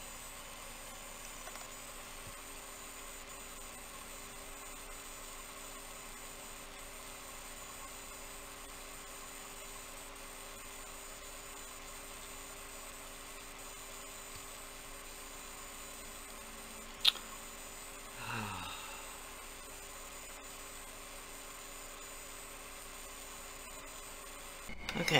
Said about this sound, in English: sorry for the noise of the air conditioner